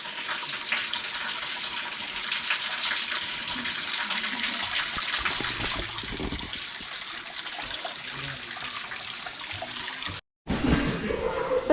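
Water runs continuously from a spring at a Nandi idol shrine, a steady splashing trickle and gush heard close up for most of the clip, briefly cut off by a short silence before resuming.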